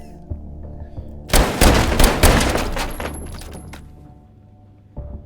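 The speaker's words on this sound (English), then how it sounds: "Ah, the relaxing sound of periodic distant gunfire is in the air." Distant gunfire in the VR shooter H3VR: a dense, loud burst of overlapping shots and rattling reports rolls for about two seconds, then trails off into quieter echoes, with a single thump near the end.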